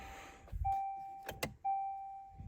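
A Volkswagen MK8 GTI being switched on: two steady electronic chime tones about a second apart, with sharp clicks and a brief mechanical whir between them, close and clear in a quiet cabin.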